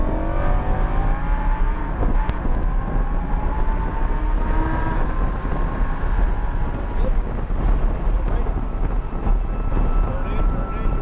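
A race car at a Miami driving-experience track runs at full throttle, its engine droning loud and steady with rising pitch as it accelerates, wind buffeting the microphone throughout.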